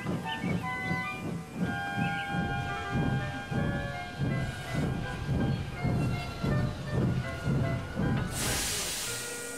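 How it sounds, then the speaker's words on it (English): Steam locomotive chuffing with a steady rhythmic beat under sustained hissing and whistle-like tones, ending in a loud burst of released steam. "Gordon backed down on his train, hissing mournfully."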